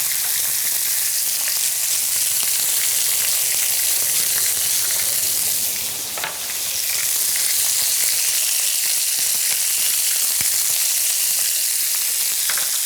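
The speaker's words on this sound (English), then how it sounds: "We want to let it sit for about 5 minutes so that skin starts to brown and get crispy." Chicken pieces sear skin-side down in a hot pan with a loud, steady, close sizzle that barely dips once midway and then continues unbroken, with no talking.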